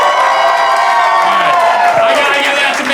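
A comedy roast battle audience erupts in loud crowd cheering and whooping, many voices yelling together without pause, with some clapping mixed in.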